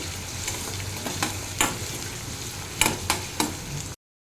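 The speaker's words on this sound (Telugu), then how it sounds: "ఈ ఉల్లిపాయ అనేది బ్రౌన్ కలర్ వచ్చేంత వరకు ఫ్రై చేసేసుకోవాలి" Onions fry in hot oil until brown for a black-eyed pea and chicken curry, a continuous close sizzle punctuated by several spatula stirs and scrapes before it cuts off.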